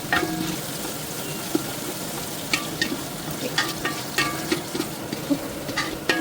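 Onions stirred while frying with red chilli and whole garam masala for beef khichuri, a continuous close sizzle broken by repeated sharp scrapes and clicks of a spoon against the pan, no talking.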